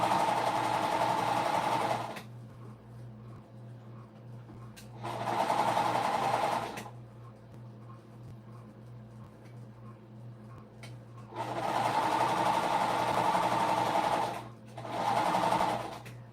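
A home sewing machine stitches a puff quilt pillowcase in loud whirring bursts of two to three seconds, separated by quieter pauses with a low steady hum underneath.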